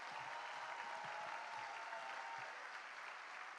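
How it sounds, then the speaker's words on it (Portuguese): Steady, even applause from an audience at a university event at UNILA in Foz do Iguaçu, a continuous dense patter of clapping heard from some distance, faint and unbroken. "eu queria pedir uma salva de palmas a todos os professores, colaboradores que fazem a UNILA"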